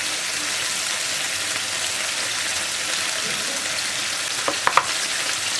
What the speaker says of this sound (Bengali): চার থেকে 5 মিনিট চিকেনটা ভেজে নেওয়ার পর আমি এবার এই রেড কারি পেস্টটা দিয়ে দিচ্ছি